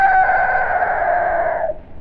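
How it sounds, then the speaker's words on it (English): Toy clockwork rooster giving one sustained, loud crow with a steady reedy tone that cuts off abruptly, alone and close. "Now, who wanted that clockwork rooster?"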